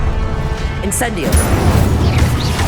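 Incendio fire spell in Hogwarts Legacy on PS5 gives a loud, rumbling burst with crashing, booming effects amid busy battle sounds, while a voice calls out over the action.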